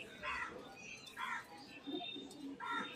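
Faint, soft pigeon coos come in short bursts at a steady pace, quiet against background noise, from a small pigeon wearing a leg tag that is being held in the hand.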